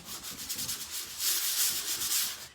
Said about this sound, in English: we're going to sand any of that residue away